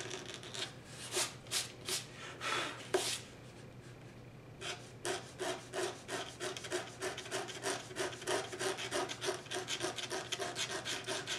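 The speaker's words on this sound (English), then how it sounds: "You want to hold on, scratching in the same position. It says scratch right on the surface." Fine, rapid scratching on watercolor paper as a sharp tool etches cat whiskers into the painted surface, short rhythmic strokes in quick bursts, then a steady run of repeated scrapes, close and alone.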